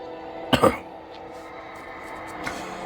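Two quick, harsh coughs close by during Diablo IV gameplay, followed by quiet room tone and a faint throat sound.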